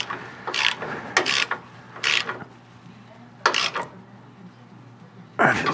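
A hand ratchet tightens bolts on a Western snowplow mount fitted to a 2024 Ford F-350 Super Duty. It gives close, loud bursts of rapid clicking, five separate strokes with pauses between them.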